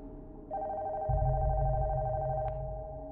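A telephone rings upstairs in a horror video game, a steady electronic ringing tone over a loud low droning rumble, with no talking.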